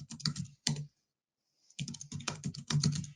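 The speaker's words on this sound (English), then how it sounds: "Entering username and password, clicking login," A username and password typed on a computer keyboard: two quick bursts of clacking keystrokes, a pause of near silence, then a longer run of rapid typing, close and clear.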